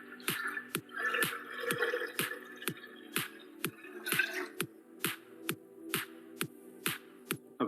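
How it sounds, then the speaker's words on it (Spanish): Water from a container pours into a laboratory calorimeter, heard as a steady series of close, evenly spaced drips and splashes, roughly two per second, over a faint background hum. "se ingresa el agua del recipiente al calorímetro"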